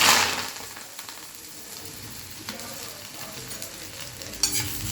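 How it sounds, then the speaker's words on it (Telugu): Sun-dried gongura leaves fry and crackle in a pan with a steady, close sizzle as they are stirred, with occasional scraping clinks over the hiss and no talk. "ఇది కొంచెం కొంచెం చేసి ఇట్లా వేయించుతాను"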